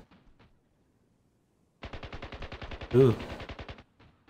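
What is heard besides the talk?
gunfire in video game Ravenfield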